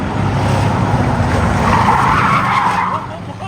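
Race cars skidding on an oval track during a destruction derby-style event, tires squealing loudly over roaring engines in a sustained screech that fades near the end.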